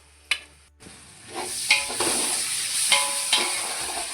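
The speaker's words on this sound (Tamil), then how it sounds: "வெங்காயம் பழம் லேசாக வெந்து வருது" Onions for biryani frying in a pan, a steady hiss of sizzling oil broken by sharp scrapes and clinks of a spatula stirring against the metal, close and fairly loud, no talking.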